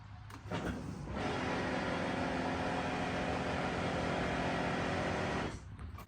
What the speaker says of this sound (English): the driver's side makes a lot of noise whenever you put them down